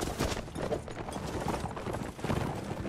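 Horse hooves pound steadily through a battle in the Mount and Blade Warband video game on PS4, a dense, continuous galloping clatter mixed with combat noise at moderate loudness, with no talking.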